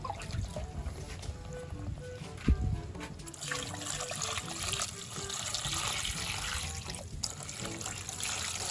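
Crabs being washed under running water, a steady close trickle and splash from a tap with shell clatter and one sharp knock.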